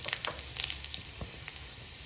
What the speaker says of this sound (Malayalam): 2 ഉണക്കമുളക് ഇട്ട് കൊടുക്കാവേ. ഇത്ര അവിടെ കിടന്ന് ചെറുതായിട്ടൊന്ന് മൂക്കട്ടെ